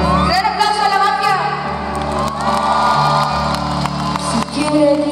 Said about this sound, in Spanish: ¡Gran aplauso a la mafia!